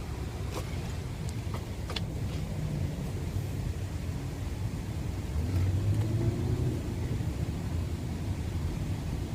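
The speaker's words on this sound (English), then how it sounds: "we're stuck in traffic" Steady low rumble of cars idling and creeping in a traffic jam on the way to Six Flags Great Adventure, broadband road noise throughout with a slightly louder engine surge partway through, no talking.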